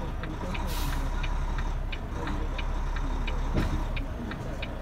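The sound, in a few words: truck fifth wheel sliding after releasing the brake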